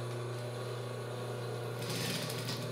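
A domestic sewing machine stitching fabric with elastic for a child's shorts, a steady close mechanical whir with a rapid needle chatter that rises slightly in intensity near the end.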